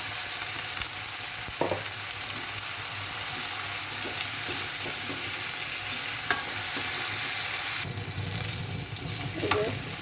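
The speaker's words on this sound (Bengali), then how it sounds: "এই যে আমার বেগুন ভাজা হয়ে গেছে।" Eggplant pieces frying in hot oil: a loud, continuous sizzle with occasional scraping stir clicks from a spatula, heard alone without talk.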